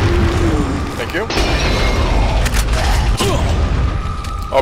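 Gunfire in the Resident Evil 4 video game, dense and loud with sharp cracks and booms over a constant noisy backdrop, while a person talks over it.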